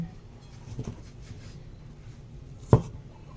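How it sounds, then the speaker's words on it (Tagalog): Knife cutting a large bilimbi (kamias) fruit on a board, giving two dull thuds, a softer one early and a sharper, louder chop near the end, close-up over a quiet background with no talking. "hihiwain ko lang to guys"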